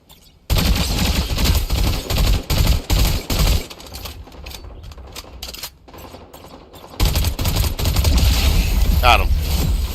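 Automatic weapon fire in Fortnite Zero Build on PS5 rattles in loud rapid bursts, stopping and starting, with quieter gaps and a dense stretch of shooting near the end; a voice talks over it.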